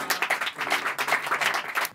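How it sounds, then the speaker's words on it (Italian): Brief, fairly faint audience clapping at a small live music event, with rapid, uneven claps for about two seconds. "Ragazzi, un applauso"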